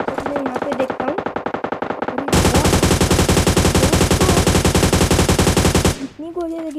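Gunfire in the mobile battle royale PUBG Lite: a fast string of individual shots, then a long, dense, unbroken automatic burst of about four seconds, loud and close, with faint talk at the end.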